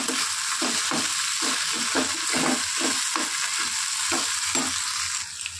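Spices being stirred into food frying in a pan, a loud steady sizzle broken by repeated scraping stirs in an uneven rhythm.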